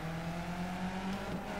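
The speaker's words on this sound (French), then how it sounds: "Oh, le moteur qui démarre." Skip Barber race car in the iRacing simulator, its engine buzzing steadily at a constant pitch throughout, close and continuous with no voices.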